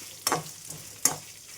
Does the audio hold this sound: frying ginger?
yes